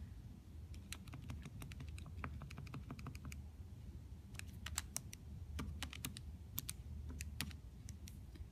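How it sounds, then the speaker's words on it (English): A math problem being typed on a computer keyboard: quiet, quick runs of light key clicks in irregular bursts with short pauses, over a low background hum. "you can type in the original problem"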